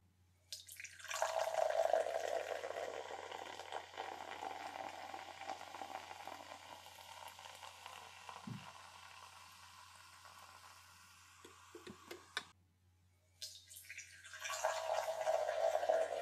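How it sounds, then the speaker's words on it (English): Flavored soda poured from a freshly opened glass bottle, a steady liquid stream lasting several seconds, close and fairly loud, tapering off, followed by a quieter gap and another pour near the end. "for all you ASMR fans, here is the pour"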